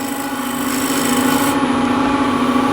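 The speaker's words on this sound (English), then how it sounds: "With the skew, I'll just slightly undercut this," Skew chisel undercutting a yew wood box blank spinning on a lathe, a steady close rasping scrape with a constant hum, running continuously with no talk.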